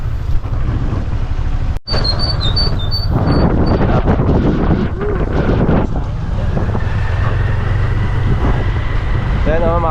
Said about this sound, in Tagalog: yung hangin dito, ang lakas pala